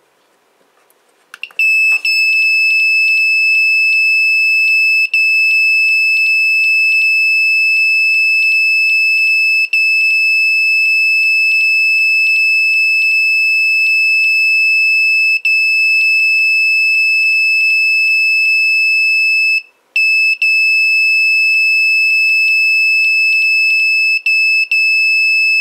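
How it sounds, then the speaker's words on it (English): A loud, piercing electronic beep tone from an LCD 12864 smart controller speaker playing a tune drones almost without break for over twenty seconds, with one brief dropout near the end. "that sounds terrible, it sounds almost like a continuous beep"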